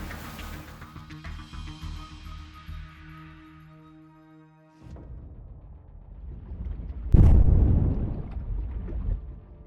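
A World War II depth charge explodes underwater near a destroyer, a sudden heavy low boom that swells out of a fading rumble and churning water, then rolls on as a loud turbulent roar.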